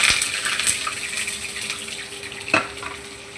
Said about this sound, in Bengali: পেঁয়াজটা দিয়ে দিলাম, দিয়ে এবার পেঁয়াজটাকে আমি একটু ভাজা ভাজা করবো।